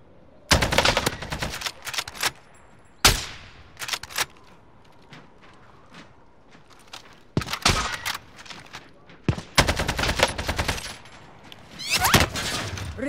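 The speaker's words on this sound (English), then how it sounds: "Receiving hostile fire." Video game gunfire comes in sharp, loud bursts of rapid automatic shots mixed with single cracks, separated by brief quieter gaps, close and punchy with no voices over it.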